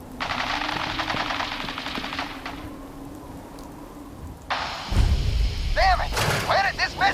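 Fallout 4 combat with rapid bursts of automatic gunfire: one sustained burst of shots, a pause, then another heavy burst with thumps, while voices talk and shout over the action.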